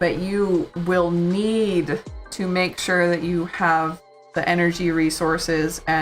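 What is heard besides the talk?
No everyday noise stands out behind the speech.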